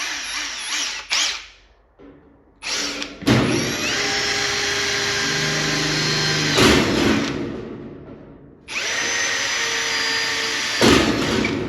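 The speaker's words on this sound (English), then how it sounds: "Drill a couple of holes." A power drill bores holes in a 60 gallon steel air tank, with several short whirring bursts and then two long sustained grinding runs, loud and close, with clunks between them.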